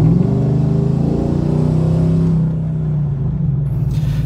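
Steady low exhaust drone of a 2015 Chevrolet Silverado with a Borla ProXS muffler, heard inside the cab with the windows up, a continuous engine rumble holding level and then easing off slightly, with no talk.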